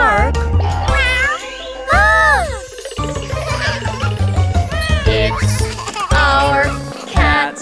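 A cartoon cat meows in a children's nursery-rhyme song, several high sliding meows woven through bright music, with singing voices alongside.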